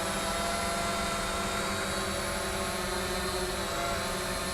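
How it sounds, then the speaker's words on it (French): Eachine E511S, a small brushed-motor drone styled as a Mavic Air clone, hovering nearby with a constant high-pitched whirring buzz of tiny propellers, steady and unbroken throughout. "le drone va se mettre à un endroit"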